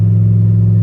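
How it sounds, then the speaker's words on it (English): Turbocharged LS-swapped car with an aftermarket turbo kit, its engine droning loud and steady inside the cabin, a heavy low rumble holding one even pitch throughout. "Overall on the car, the actual turbo kit, it's loud, really loud in here."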